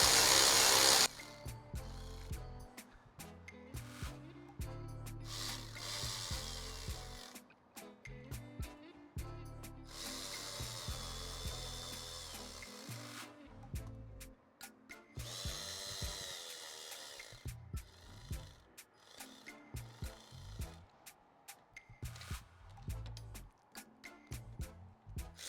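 Power tool bursts tighten bolts on a 2018 Honda Accord 1.5L turbo engine during a head gasket job, several short whirring runs with pauses between, close and fairly loud, no talk.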